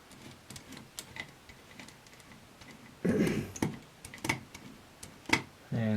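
Sharp mechanical clicks repeat unevenly from an opened G&G airsoft gun gearbox clicking over, some louder than others, with a brief burst of noisy mechanical whirring in the middle.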